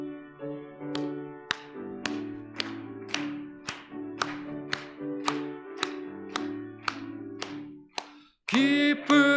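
Rhythmic congregational clapping in a church keeps a steady beat during a Christmas Day worship service, sharp hand claps roughly every half second over organ or keyboard tones, before singing voices swell at the end.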